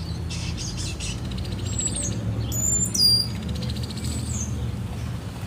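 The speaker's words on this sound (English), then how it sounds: "this is how I record the bird sounds that end up in some of my" Several wild birds chirp and sing in trees in a quiet outdoor setting, with short bright calls and trills scattered over steady low background noise.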